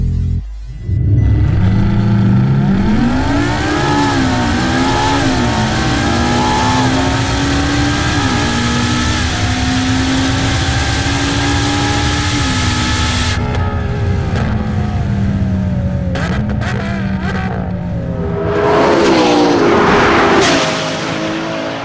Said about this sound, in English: here's what a three-way drag race would look like between the LaFerrari P1 and 918.